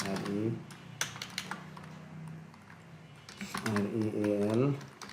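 A computer keyboard clicks in short bursts of rapid keystrokes while a graphic design lesson is underway, with someone talking over the typing at the start and end.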